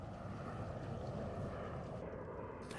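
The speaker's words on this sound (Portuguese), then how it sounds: "Sobre as nossas cabeças, somos invadidos pelo contínuo ir e vir dos aviões que sulcam o céu maiorquino." Airplanes fly overhead in the sky over Majorca, giving a steady, distant engine drone with no talk.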